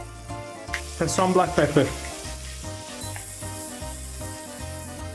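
Mushrooms frying in butter and oil in a pan on medium-high heat give a steady close sizzle, with a few louder crackling bursts early on and a voice speaking over it.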